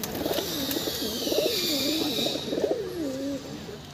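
Madrasi pigeons cooing in a loft in Bulandshahr, a steady run of soft, warbling coos that overlap and repeat throughout with no pauses, close and moderately loud.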